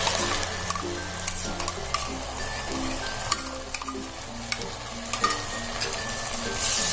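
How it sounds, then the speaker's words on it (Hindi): Tomato puree tipped into a hot, sizzling pan of spiced oil with cardamom and ginger for kofta curry gravy, then stirred; steady close frying hiss with intermittent scraping and clinks of a spoon against the pan, no talking. "उस प्योरी को हम इसमें ऐड कर लेंगे।"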